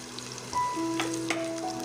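Sliced onion and green chilies hit hot oil in a pan for potato Manchurian, setting off a steady close sizzle and crackle with brief stirring scrapes and no talking.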